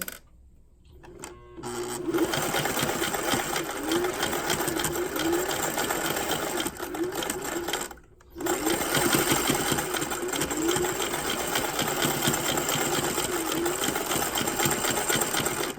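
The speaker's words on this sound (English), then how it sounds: "Okay, so I'm going to sew this right on here." A sewing machine stitches a fabric piece onto a sports bra, running steadily and loud for most of the stretch with a short pause midway and a quiet start.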